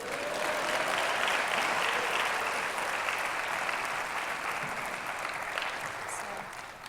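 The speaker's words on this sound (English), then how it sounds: "I believe that does deserve an applause" Audience at a talk breaking into sustained applause, a loud, even roar of many hands clapping throughout, tapering slightly near the end.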